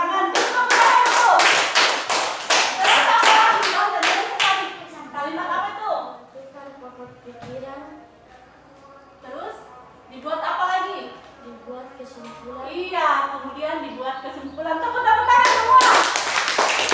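Children in an Indonesian classroom clap their hands in a quick group burst of sharp, loud claps, then talk and answer a teacher, and a second round of clapping breaks out near the end.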